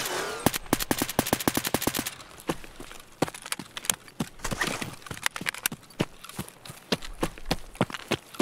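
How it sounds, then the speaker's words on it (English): Rapid bursts of gunfire in Escape from Tarkov, sharp repeated shots in quick clusters with some fainter, more distant reports, and no talking over them. "They shot through the damn wall."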